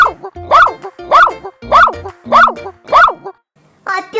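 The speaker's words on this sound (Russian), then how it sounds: "Чего-то твоя собачка на Катькин дом лает." A small dog barks in a backyard at a neighbour's house, six sharp, evenly spaced barks close up, ending with a short vocal sound after a pause.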